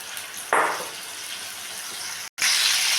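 Marinated chicken dropped into a small amount of hot oil in a kadai gives a sudden, close hiss that settles into steady sizzling, then briefly cuts out and resumes loudly, with no talking.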